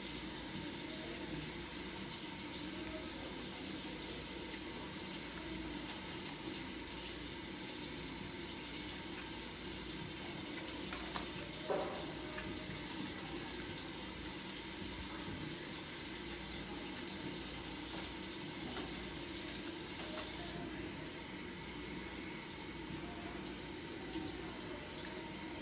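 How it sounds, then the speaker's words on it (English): A bathroom sink tap runs steadily during handwashing. The water makes a continuous wash of even, moderate flow for the whole stretch, with one brief clink midway and no talk. "So Brandy will leave the water running as she grabs her paper towels."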